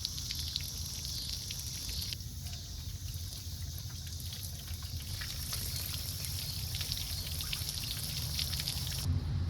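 Water trickles and drips at a Carrier Supra 850 freezer unit, a soft steady wash of faint dribbling with no voices.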